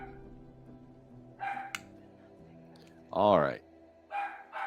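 A dog barks in short bursts, with a loud close yelp in the middle and more barks before and after, while someone briefly says a few words.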